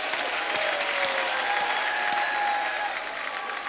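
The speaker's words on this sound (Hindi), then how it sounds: "जोरदार तालियां हो जाएं।" Studio audience on a TV comedy talk show applauds loudly, a steady wash of many hands clapping with occasional sharper claps, continuous and even for several seconds.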